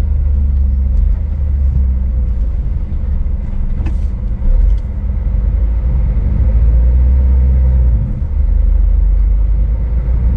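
A car drives through city streets between Gyumri and Yerevan in Armenia, heard from inside the cabin as a steady low engine rumble and road noise, loud and continuous with a brief rattle partway through.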